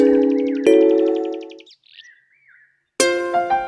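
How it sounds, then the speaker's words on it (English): A cartoon crow caws in an animated fable, its calls sounding as short, bird-like chirps over layered harmonic music, with brief quiet gaps before a loud musical burst returns. "The crow lifted up her head and began to caw her best."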